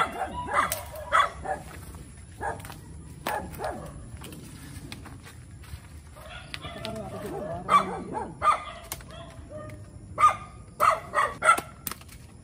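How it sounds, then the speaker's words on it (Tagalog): Dogs bark repeatedly in short sharp bursts, some near and some farther off, with occasional yips scattered through the scene. "O yung mga aso."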